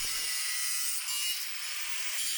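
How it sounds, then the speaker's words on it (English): An angle grinder cutting through steel angle iron in a garage: a continuous harsh, high grinding whine, loud and close, running unbroken for a couple of seconds. "Started cutting with the angle grinder."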